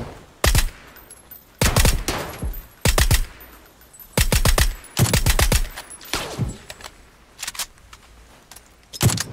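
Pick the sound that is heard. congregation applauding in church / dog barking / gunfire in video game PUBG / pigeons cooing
gunfire in video game PUBG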